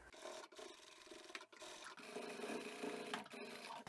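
A sewing machine runs steadily, stitching and back-stitching the seams of a lined storage bag, with a continuous buzzing whir broken by a few brief pauses and no talking.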